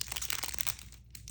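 A packet of Vimto Millions sweets being torn open, giving close, loud crinkling and crunching of wrapper plastic in quick bursts that ease off toward the end.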